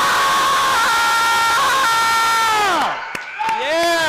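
A large crowd at a speaking event screams together at full volume in one sustained roar that sweeps downward and breaks off, then flares up again in a shorter burst of yelling.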